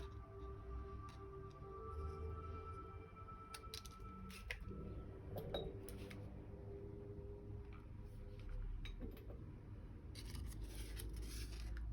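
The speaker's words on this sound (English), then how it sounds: "I'm going to just trim that down" Scissors trim crepe paper petals for a paper Icelandic poppy in short, crisp snips scattered through a quiet room, soft and close, with light handling rustles in between and no talking.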